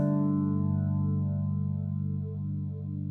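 Guitar run through a flanger pedal on a rack-mount-style unit, a sustained tone with a slow sweeping, swirling regeneration that almost resembles a rotating Leslie, steady and close with no talk.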